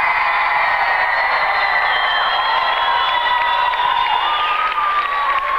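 A crowd at a live stage show cheering, shouting and applauding continuously, loud and dense with no single voice standing out.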